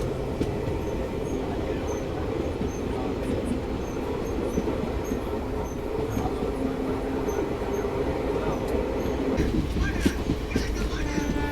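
The Vivek Express runs through forest on the South Western Railway, its steady rumble and wheel clatter filling the whole stretch, with a voice speaking faintly beneath.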